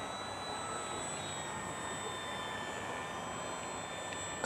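A steady, high-pitched engine whine drones continuously from a Durafly Tundra model airplane on floats flying at moderate distance, with no talking.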